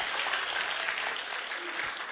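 Steady applause from an audience fills the whole stretch, dense clapping at an even level with no voices standing out.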